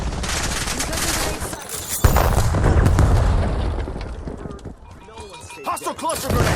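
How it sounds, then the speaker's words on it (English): Loud cluster grenade blasts rattle through a Call of Duty Black Ops 7 multiplayer hardpoint match, mixed with rapid gunfire and a sharp boom near two seconds, while in-game voice callouts talk over the action. "Incoming cluster. Hostile grenade."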